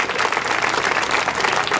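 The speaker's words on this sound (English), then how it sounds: "Let's give everybody who had a hand on this a big round of applause." Audience applause at the ribbon-cutting grand opening of Boyle Heights City Hall, a $22 million project: a dense, steady wash of many hands clapping throughout, close and full, with no talking over it.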